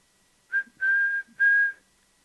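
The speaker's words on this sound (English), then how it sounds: "Blow the whistle." Three distinct whistle blasts, a short toot followed by two longer sustained tones, clear and close against silence.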